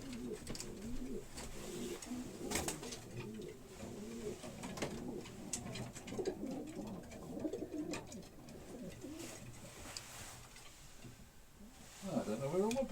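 Pigeons coo in a loft at the end of the racing season, soft repeated throaty calls layered over one another, with a person talking quietly in the background.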